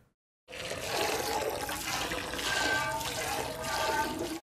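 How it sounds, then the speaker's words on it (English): In a scene from the TV series Chernobyl, a cow is milked by hand, and milk streams and splashes into a pail as a steady rushing, watery flow lasting several seconds with slight surges in between. "Oh, milking a cow."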